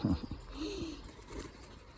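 Domestic pigeons kept by a breeder give a few low, throaty coos close by, soft and short against a quiet background.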